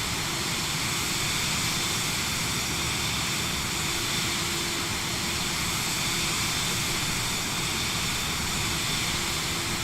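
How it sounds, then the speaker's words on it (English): A steady, loud Cirrus Vision Jet engine drone in Microsoft Flight Simulator 2024 holds constant throughout, with a broad even roar and a faint tonal hum underneath, no talking. "I feel like the engine sound to this Vision Jet's been updated"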